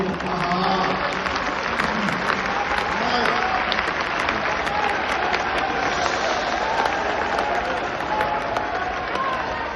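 A crowd at a Hindi-language public address applauds continuously for about ten seconds. The clapping is dense and even, with a faint murmur of voices underneath.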